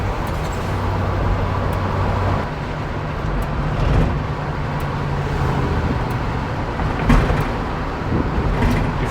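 A Chevelle with completely worn-out suspension rolls over bumps, a steady low road rumble and drone inside the car broken by soft jolts and thumps, with no talking.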